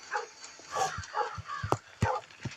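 Dog barking in the video game Metel, a series of short yips and woofs scattered through the clip alongside faint game sounds.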